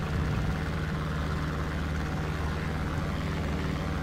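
Robin 400 light aircraft with a roughly 180-horsepower engine, simulated in X-Plane 11, droning loud and steady on takeoff: a constant propeller hum with no pauses.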